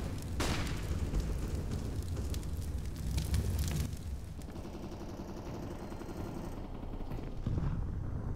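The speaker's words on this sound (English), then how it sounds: "Flashbang." A flashbang grenade in Counter-Strike on the de_Nuke map detonates early with a sharp, loud burst amid scattered gunfire. A thin, high ringing tone then hangs over the muffled game sounds for several seconds.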